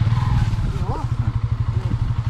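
A motorcycle engine idles close by with a steady, fast, throbbing pulse throughout, with faint voices in the background.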